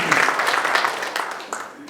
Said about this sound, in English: Let's clap for him, isn't it?